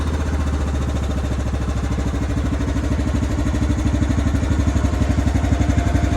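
A Wheel Horse garden tractor, a barn find with a small cab, idles low with a steady, close, even engine putter that holds unchanged throughout, with no talk.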